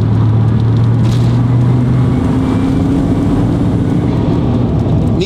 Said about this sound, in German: 2000 Umdrehungen Vollgas. Vierte Gang.